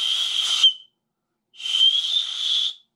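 The whistle built into a Swiss Firesteel 2.0 Scout fire starter gives two shrill blasts, a short one and then a longer one after a brief silence, close and loud.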